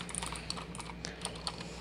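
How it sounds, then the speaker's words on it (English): A Motospeed CK61 mechanical keyboard with clicky blue switches being typed on up close, giving a steady patter of sharp individual clicks with a few louder strokes, alone. "I like the clicky noise"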